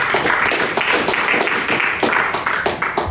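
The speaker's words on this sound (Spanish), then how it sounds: "Denle un aplauso." A church congregation applauds during a Spanish-language sermon, giving steady, dense clapping that fills the room for a few seconds with no talking.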